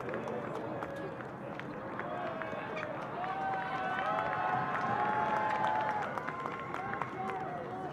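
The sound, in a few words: applause for senior soccer players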